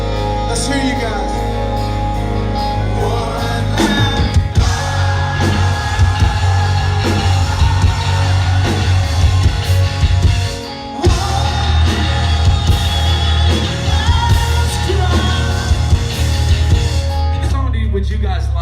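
Concert crowd at a rock show cheering, whooping and yelling continuously in a dense, loud roar, with a brief dip partway through before the noise swells again.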